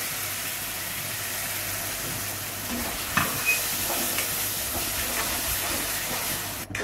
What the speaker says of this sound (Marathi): टमाट्याची पेस्ट टाकल्यानंतर त्याला तेल सुटेपर्यंत आपण परतून घेऊ।